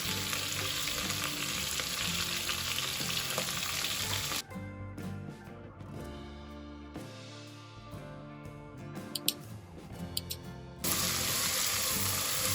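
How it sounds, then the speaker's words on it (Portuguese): Onion, bell pepper and seasoning pepper frying together in a pan for a Bahian okra stew, a steady close sizzle with a softer stirred stretch in the middle, no talking. "Vou misturar bem isso aqui e deixar esse tempero fritar também, só tendo cuidado para não queimar a cebola"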